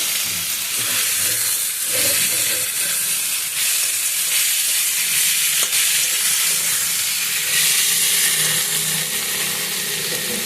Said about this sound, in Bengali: শাক ভাজাটা আমার প্রায় হয়ে গেছে